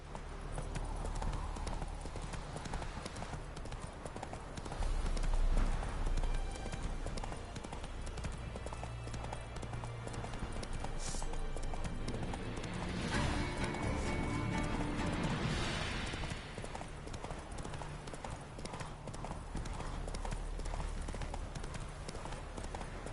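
Hooves of Roach, a horse in The Witcher 3, clip-clop steadily and close through a long galloping ride, with a brief whinny-like rise midway and game ambience beneath.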